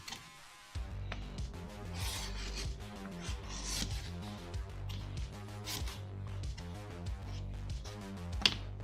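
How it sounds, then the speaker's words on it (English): Leathercraft pieces are sanded by hand in a workshop with quick, rhythmic rasping strokes. The scraping is close and fairly quiet, one pass after another with short pauses. "They got to be sanded as well."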